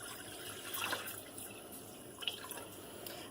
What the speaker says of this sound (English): I'm going to actually at this point just add in my water